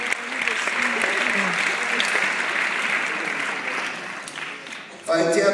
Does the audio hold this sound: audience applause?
yes